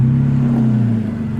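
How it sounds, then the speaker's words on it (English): A third-generation Toyota Tacoma with an MBRP exhaust holds a loud, deep, steady drone close up for just over a second. "That MBRP exhaust sounds nice."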